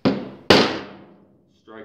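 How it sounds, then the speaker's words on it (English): A common hammer strikes a punch set on a rivet head. Two sharp, close blows land about half a second apart, each ringing and fading before a brief quiet. "then we'll strike it with just a common hammer"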